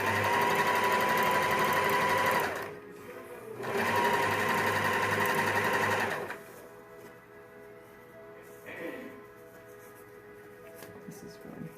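A sewing machine stitches an elastic waistband in two loud bursts of rapid, even whirring, separated by a short pause, then goes quiet apart from faint handling noises and brief soft voice sounds.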